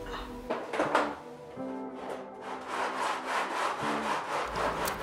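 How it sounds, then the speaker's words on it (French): Guitar sides being sanded on sanding platforms, a close, rhythmic back-and-forth abrasive rasp of wood on sandpaper repeating steadily in quick strokes. "Pour cela, je vais les reprendre sur les plateformes de ponçage."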